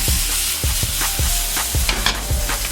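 Garlic and ginger sizzle in a hot buttered pan for a sweet and sour chicken sauce, a steady frying hiss broken by regular scraping stirs, close and alone.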